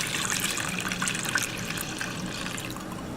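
Homemade horchata pours steadily from a spouted measuring cup into a strainer, a continuous soft liquid splashing and trickling for a few seconds with no talking.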